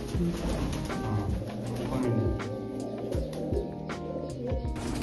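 Pigeons at a Punjabi fancier's loft coo continuously in overlapping low, throaty calls, dense and close, with occasional sharp clicks and bustle mixed into a busy, noisy background.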